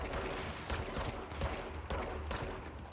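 Rapid bursts of enemy gunfire in the video game Control, dense crackling volleys repeating every half second or so at close range, alone without talk.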